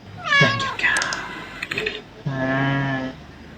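A cat meows inside the video game Sift Heads World, two drawn-out harmonic cries close up, the first tangled with a voice and clicking, the second long and clear after a brief gap.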